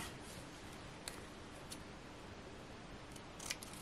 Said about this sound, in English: So let me bring my scissors back.